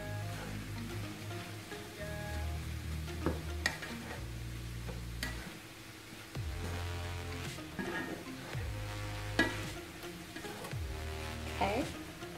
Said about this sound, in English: now we're going to add our ground turkey. And we are going to stir this up a little.